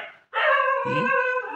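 A dog gives a drawn-out, high whining bark close by, its tone holding steady for over a second, while a second lower yelp or growl joins partway through.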